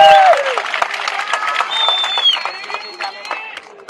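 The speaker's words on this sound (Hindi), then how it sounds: "तो एक जोरदार तालियां अपने खुद के लिए बजा" An audience at a public address bursting into loud applause and cheering, dense continuous clapping with crowd voices and whistles throughout, fading slightly toward the end.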